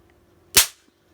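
A Christmas cracker pops with a single sharp bang, loud and close, with a quick decay into near silence.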